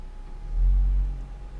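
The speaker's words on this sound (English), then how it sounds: "The panoramic roof, it's tilt and slide like so." Panoramic roof of a 2017 Audi RS3 2.5 TFSI Sportback tilting and sliding open, a low smooth motor hum swelling and fading over about a second inside the quiet cabin.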